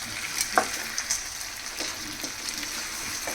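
A taro root curry is stirred in a pan, giving a soft sizzle and frying hiss with light scraping strokes throughout, close and steady.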